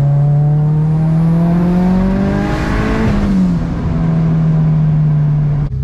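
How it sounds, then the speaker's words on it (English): Built big-turbo Mazdaspeed6 under a wide-open-throttle pull, loud steady engine drone rising in pitch with a whirring harmonic whine, heard from inside the cabin with no talk. "I don't know if you guys can hear the fuel pump in the back."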